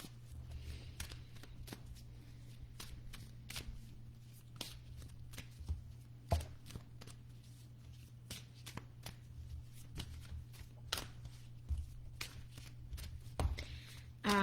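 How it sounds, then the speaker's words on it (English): A deck of oracle cards being shuffled by hand makes a quiet, close series of crisp riffling snaps and soft slaps, repeating in an uneven rhythm over a low background hum. "these cards are just like all clumping together and they usually go really smoothly."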